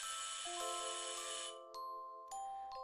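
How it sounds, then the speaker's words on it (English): A doorbell chime rings indoors: clear sustained tones ring out and overlap, then fade and return in a second, shorter chime near the end, with no talking. "That was the doorbell."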